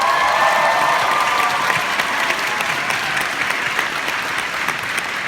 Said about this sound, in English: let's give our last roaring applause for our Shani Vo